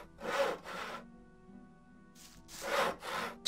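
Repeated rasping saw strokes through wood in the Gothic 1 game, two loud close strokes, a quiet pause with a faint hum, then a softer stroke and two more loud ones.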